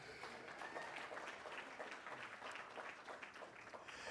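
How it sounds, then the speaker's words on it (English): A city hall audience at a State of the City address claps in sustained applause, a dense, even wash of many hands heard from a distance with no pauses. "Yes, you can clap."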